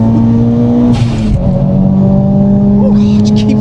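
A Mitsubishi Evo 7 with over 400 bhp accelerates flat out on an open road, its engine drone climbing steadily and loudly through the revs with a brief burst of noise partway, while a person's voice is heard over it.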